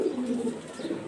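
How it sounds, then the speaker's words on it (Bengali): A young High Flyer Giribaz pigeon on a pigeon farm coos softly in low, rolling murmurs, close by and alone for a brief moment. "এই যে হাইফুলার গিরিবাসের বাচ্চা"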